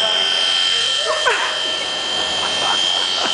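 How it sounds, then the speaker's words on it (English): A toy mini helicopter flying out of control gives a steady, high-pitched rotor whine throughout, with excited voices calling out over it. "We're going to crash the chopper!"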